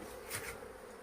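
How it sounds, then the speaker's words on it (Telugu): A brief, close buzz of flies droning around, steady and faint, with no voices. "ఇదిగోండి చూడండి ఎన్ని ఈగలు ఉండేవి"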